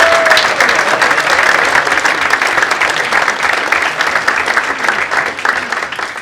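A crowd at a football club's Player of the Year awards gives the under-18 youth team a round of applause, with dense, sustained clapping close by from start to finish and light cheering mixed in.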